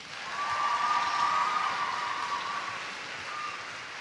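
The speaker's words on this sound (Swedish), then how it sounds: "En stor applåd för Anneli." Stage audience applauding a cosplayer at a Swedish cosplay championship convention, a broad sustained wash of clapping that swells quickly, holds steady for a few seconds and tapers slightly, with no talk over it.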